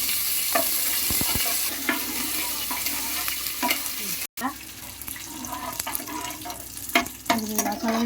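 Curry leaves and spices crackle and sizzle in a hot pan while being stirred, with scraping strokes and sputtering pops heard close. A brief cut interrupts the sizzle midway.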